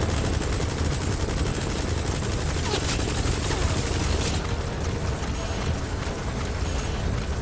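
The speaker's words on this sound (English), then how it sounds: "It's gonna be nigh fucking impossible to lose a helicopter on the savannah." A helicopter thrums steadily while machine-gun bursts rattle in rapid, continuous fire during gameplay in Metal Gear Solid V on an open savannah, loud and close throughout.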